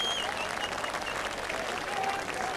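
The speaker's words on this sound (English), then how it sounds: "Terrific applause, and they deserve it" Spectators at an indoor bowls match applaud after a close finish, a steady, even wash of clapping at moderate level with faint voices mixed in.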